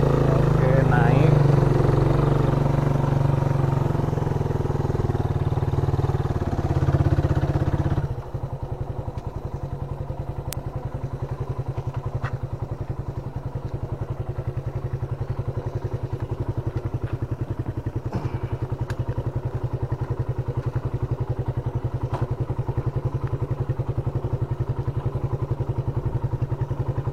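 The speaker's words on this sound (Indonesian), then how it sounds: "Oke, ini saya pakai gigi 2." A motorcycle fitted with a Keihin PE carburetor pulls in second gear, first climbing up a hill with a loud, strained engine note for several seconds, then settling into a steady, rapid, buzzing putter for the rest of the ride, with someone talking over it.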